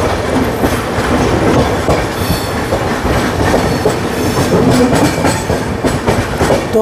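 The Puri–Sealdah Duronto Express runs on its rails as heard from inside a first-class cabin, a loud steady rumble with rhythmic clickety-clack of the wheels and occasional faint squeals, continuous throughout.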